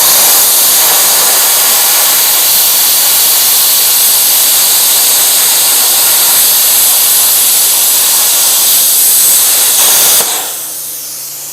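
Bestarc BTC500DP plasma cutter at 50 amps and 65 psi slicing half-inch steel plate, a loud, steady roaring hiss that runs for about ten seconds, then cuts off abruptly, leaving a quieter low hum.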